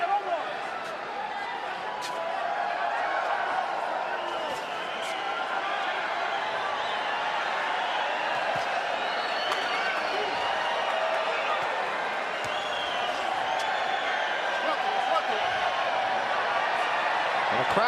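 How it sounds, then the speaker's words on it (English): Boxing arena crowd at the MGM during a Marquez versus Casamayor fight, a steady roaring wash of fans with scattered whoops and claps as a wave rolls around the venue, continuous and distant-sounding throughout. "crowd very much into this fight. A wave going on here at the MGM."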